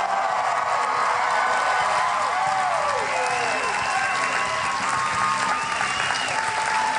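Enthusiastic studio audience of about 200 applauding steadily on a TV sports show set, dense sustained clapping with some whoops and cheers rising through it.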